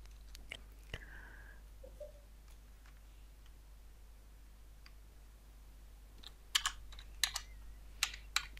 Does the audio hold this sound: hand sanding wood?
no